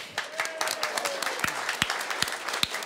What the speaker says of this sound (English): now, a big round of applause for New Zealand First Deputy Leader, Ron Mark.